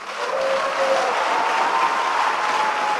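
A church congregation at a Phaneroo service claps loudly and continuously, a dense, even roar of hands that swells in within the first moment and holds steady throughout, with no talking on top.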